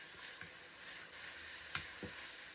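Oil sizzles in a pan while a pork chop fries, a steady close hiss with a few soft clicks and taps of stirring, no voices.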